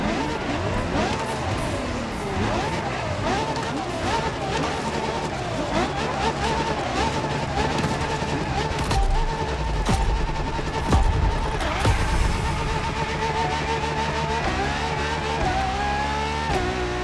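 A LaFerrari hybrid supercar from the Ferrari lineup in the Motorfest racing game drives in a continuous loud engine drone that rises and falls as it accelerates, with a brief rougher burst near the middle.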